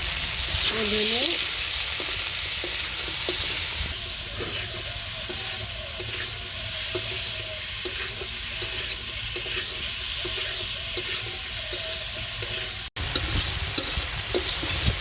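Spices with tomato, chilli, turmeric, salt and ground cumin fry for a katla fish curry with potato, a continuous close sizzle with rhythmic scraping stirs throughout and a brief sharp cut near the end.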